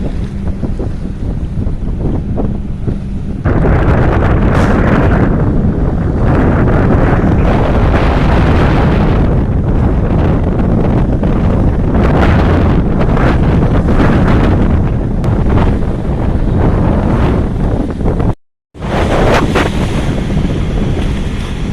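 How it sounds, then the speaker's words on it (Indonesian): Strong wind and heavy waves at Bakauheni port on the Sunda Strait, a loud continuous roar of gusting wind buffeting the microphone over crashing water, with a brief dropout near the end. "Ombaknya gede"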